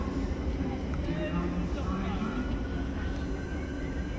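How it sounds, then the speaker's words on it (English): Steady broadband roar of aircraft passing overhead at Clapham Junction railway station during the evening rush hour, a continuous low rumble filling the whole clip with no pauses. "There's planes going overhead."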